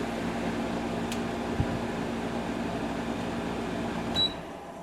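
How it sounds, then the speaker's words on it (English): Kenmore air conditioner running with its refrigerant circulating: a steady low hum and whooshing drone with a faint tonal buzz, a soft click near the start and a brief chirp later, close and continuous. "Okay, you can hear the refrigerant."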